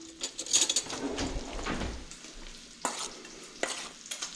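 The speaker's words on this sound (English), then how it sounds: "Now if we get that mixed with the spoon." A spoon stirring an arroz con pollo mixture of chicken and rice in a pan, scraping and clinking in irregular strokes with a soft sizzle underneath, close and moderately loud.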